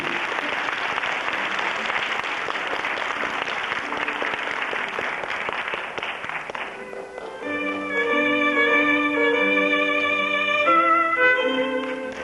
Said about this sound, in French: applaudit très fort les mannequins, les costumes.